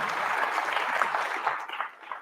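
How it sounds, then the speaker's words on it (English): Audience clapping at a live awards show, a moderate round of applause from a mid-distance crowd that holds steady, then thins and fades in its final moments. "big round of applause, man"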